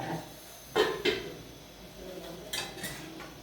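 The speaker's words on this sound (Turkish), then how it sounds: "Bamya bir de doğrayayım" A knife chopping okra strikes a cutting board a few times, sharp close knocks in two pairs separated by a short pause, against faint room noise.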